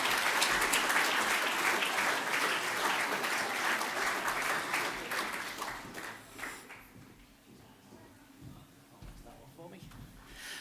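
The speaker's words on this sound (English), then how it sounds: "Please give a round of applause to Stuart Bishop" An audience at an awards ceremony breaks into loud, dense applause that carries on strongly for about six seconds before thinning into scattered claps and fading toward quiet.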